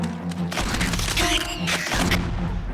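A shotgun in the game Dementium 2 HD fires several loud, dull booming blasts at a slow rate, each a broad thump with a short tail.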